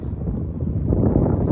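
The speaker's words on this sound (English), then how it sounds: "Windy as all hell" Strong wind gusts outdoors on a moonlit night beside a Yamaha Tenere T700 motorcycle, roaring steadily and buffeting the microphone with a low rumble that swells louder toward the end, with no voices.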